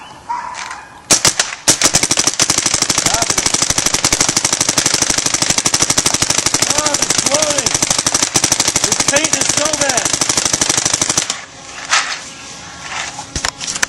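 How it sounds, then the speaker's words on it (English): .50 caliber gunfire: a sustained burst of rapid, evenly spaced, very loud shots lasting about ten seconds, with quieter moments and a few voices before and after. "We're going to get a couple shots of Roy ripping this bad boy."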